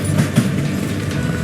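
Steady clickety-clack of a moving train in the video game Call of Juarez: Gunslinger, a continuous rumble of rolling wagons with rhythmic wheel knocks, fairly loud and close, with no talk over it.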